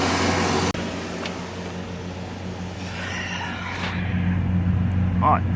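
Ford Galaxy, Kuga or S-Max engine holding steady just under 3000 RPM during DPF regeneration, a constant droning hum with a brief clunk early on, heard up close.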